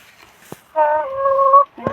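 A hen in a small backyard coop of four chickens gives a drawn-out, tonal cluck-call lasting about a second, close and fairly loud, with a short click and another brief call around it.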